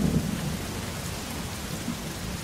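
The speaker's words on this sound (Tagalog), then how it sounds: "Uy, umuulan!" Steady rain with thunderstorm rumble, a continuous broadband wash with low rolling energy, loud and close, no voices present.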